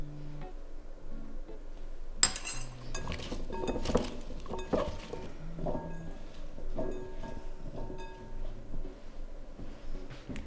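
Potatoes tossed with oil, salt, black pepper and paprika in a bowl, producing close, irregular clinks, knocks and rustling scrapes against the bowl, no voices.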